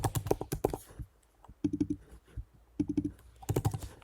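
Typing on a computer keyboard while entering a username during a WordPress install, with bursts of close, crisp key clicks separated by short pauses.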